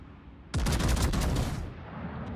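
Ship cannons in a naval battle game firing a dense, booming volley of rapid blasts for about a second, loud and close, then fading into a lingering rumble.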